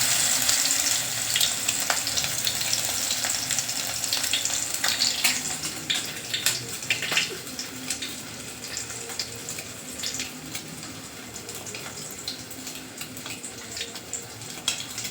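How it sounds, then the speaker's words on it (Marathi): Stuffed eggs coated in gram flour batter frying in hot oil on a low flame, giving a steady close hiss and crackle with fine popping throughout, no voices. "तेल गरम झालं की गॅस कमी करायचा आणि ती अंडी"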